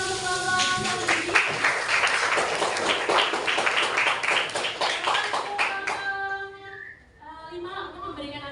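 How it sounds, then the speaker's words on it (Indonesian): Class participants clap together for a group, a burst of brisk, mixed handclaps lasting several seconds before fading, with voices talking faintly underneath and afterward. "Beri tepuk tangan untuk kelompok Samanhudi."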